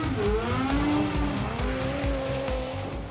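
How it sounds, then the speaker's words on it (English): Rally cars race flat out on a tarmac special stage at the 2013 Targa West, engines revving loud and close with rising, falling pitch as gears change, and tires squealing through the corners throughout. "This is the 2013 Targa West, a special stage tarmac rally"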